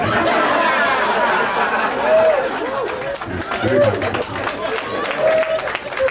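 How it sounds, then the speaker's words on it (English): A comedy club audience at Chatterbox Comedy Night applauds in a loud, continuous wash of clapping mixed with crowd chatter, while a performer keeps talking over it. "a round of applause for our veterans of the American Revolution"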